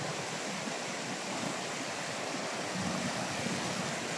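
Mountain stream at a resort in Nabunturan, Davao de Oro, flowing as a steady broadband rush of water, close and constant without breaks, with no voices over it.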